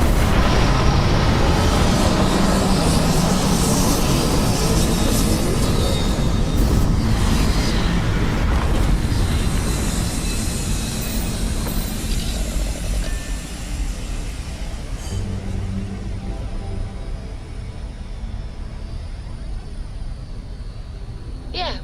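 A spaceship touches down on an alien planet in the video game Starfield, a loud, broadband rumbling roar that dominates the opening and then eases into a steadier, quieter engine drone.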